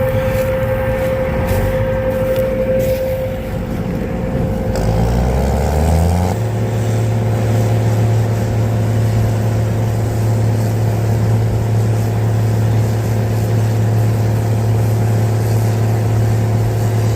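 Engine of a Gleaner M11 combine harvester approaching during a corn harvest, a loud, steady low droning rumble that shifts pitch partway through, then holds a constant growl close by.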